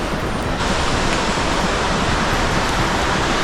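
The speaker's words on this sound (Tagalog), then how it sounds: "Naririnig-rinig ko na yung ano, tunog ng hampas ng uh, falls" Majayjay (Taytay) Falls in Laguna fills the air with a loud, unbroken roar of crashing water, a dense steady rush with no pauses and no voices.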